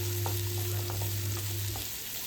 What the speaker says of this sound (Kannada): ಇಲ್ಲಿ ಈರುಳ್ಳಿನೂ ಹಸಿರು ಮೆಣಸಿನ್ಕಾಯಿನ ಚೆನ್ನಾಗಿ ಫ್ರೈ ಮಾಡ್ಕೋಬೇಕು